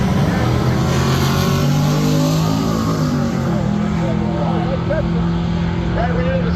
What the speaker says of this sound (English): That's pretty good pass for him. 96 miles an hour for the Mortensen ride. It's a Camaro.